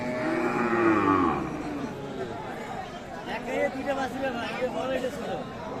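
A cow lows loudly and close at a rural Bangladeshi cattle market among crossbred and Friesian cattle, a drawn-out moo over the busy chatter of a crowd, with people talking nearby.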